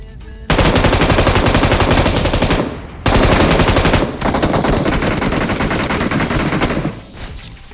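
Heavy automatic gunfire in the mobile battle game BGMI comes from houses across the way, rapid and loud in two long sustained bursts with a brief gap between them, then trailing off.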